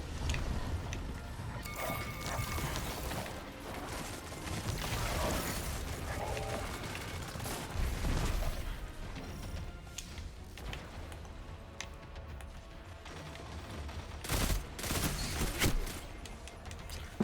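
Gunfire and explosive bursts from Destiny 2 Iron Banner player-versus-player combat, a dense, continuous barrage of shots with several louder blasts, heard without talk.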